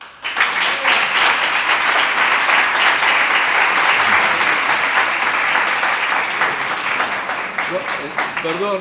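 A lecture audience applauds after a conference talk on Judaism and business, a dense, steady wash of many hands clapping at full volume for nearly nine seconds, dipping slightly near the end.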